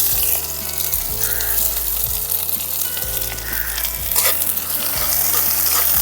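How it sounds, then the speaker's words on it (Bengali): Chopped onions frying in oil with whole dried red chillies and cumin seeds, a steady close sizzle broken by regular scraping stir strokes, with no talking. "পেঁয়াজটাকে খুব সুন্দর করে লাল করে ভেজে নিয়েছি"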